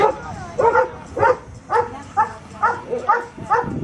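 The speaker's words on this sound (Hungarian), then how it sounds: "ahol a kutyának a talált személyt ugatással kell jeleznie" A search-and-rescue dog barks repeatedly in a steady rhythm, about eight loud barks spaced evenly, close by, signalling a found person during a demonstration exercise.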